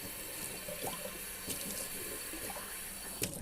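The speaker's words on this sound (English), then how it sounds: "Just give this a quick rinse." Running tap water pours steadily into a darkroom sink for a quick rinse, a close, continuous splashing hiss with small bursts and gurgles.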